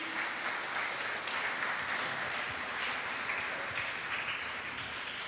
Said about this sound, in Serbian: Veliki aplauz za moju koleginicu Anu Frlin